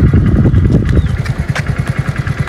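A motorbike engine revs and chugs up close as the rider accelerates through a turn, its rapid, pulsing exhaust beat loud and steady throughout.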